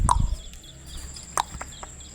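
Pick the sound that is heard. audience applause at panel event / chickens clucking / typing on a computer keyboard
chickens clucking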